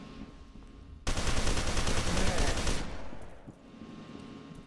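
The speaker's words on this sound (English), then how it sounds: "That automatic shotgun." Automatic shotgun fired in F.E.A.R. 2: a dense, loud burst of rapid blasts lasting about two seconds, then tapering off into quieter ambience.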